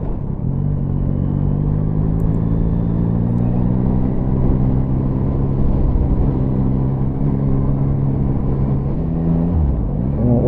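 A Yamaha XSR900 motorcycle engine runs steadily and close, with a smooth, light, four-cylinder-like drone that rises slightly and holds, then dips near the end. No one speaks.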